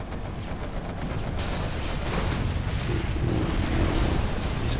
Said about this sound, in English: These explosions, man.